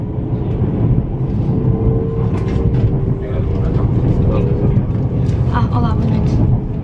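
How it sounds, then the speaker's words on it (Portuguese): Steady, loud rumble inside a regional train travelling from Porto to Braga, with continuous rolling noise and faint voices beneath it. "é um comboio normal, está só a ir do Porto para Braga."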